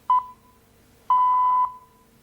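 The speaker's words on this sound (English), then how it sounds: "Beep." Two clean electronic tones of a radio time signal before the BBC radio news, a short pip followed by a longer sustained beep, clear against a quiet background.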